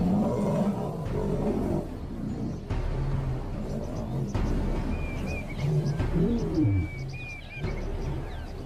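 Lions growling and roaring as they attack a buffalo in the African bush, low guttural roars and snarls rising in the middle, with birds calling faintly in the background.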